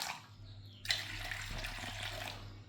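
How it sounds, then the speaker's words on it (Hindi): Plain household water is poured into a bowl to make homemade herbal gulal for Holi. A steady, close splashing stream starts suddenly and runs on without a break, quiet and alone. "थोड़ा सा हम इसमें पानी ले लेंगे"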